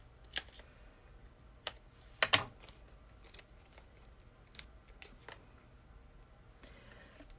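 Scissors make a few crisp, close snips as paper pieces are cut out, with irregular clicks separated by quiet pauses and no one talking.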